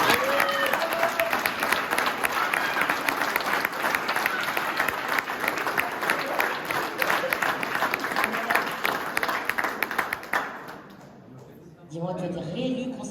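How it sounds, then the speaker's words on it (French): An audience at a 2021 departmental and regional election results event in Aulnay-sous-Bois claps loudly and steadily, fading out near the end, after which a voice speaks briefly. "On t'applaudit encore une fois très fort"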